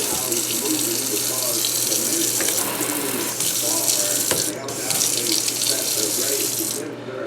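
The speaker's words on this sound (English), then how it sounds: "this is the new faucet I just installed. A lot nicer and a lot more updated. And it works." Steady rush of water pouring from a newly installed faucet into a sink, continuous and close, with a brief dip in the flow near the end.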